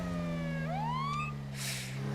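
Police car siren in GTA V with the LSPDFR mod: a loud, close electronic wail that sweeps upward as the tone is switched mid-cycle, ending in a brief noisy burst, with no talking.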